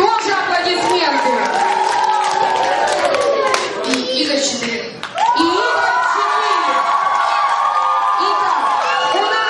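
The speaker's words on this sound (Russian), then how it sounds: "Тоже аплодисменты." Children's audience at a youth quiz show finale clapping and cheering, with excited shouts and whoops over the applause and voices talking throughout.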